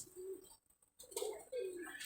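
A pigeon coos close by with low, soft, rolling calls, one near the start and two more after a short silence, over faint background hiss.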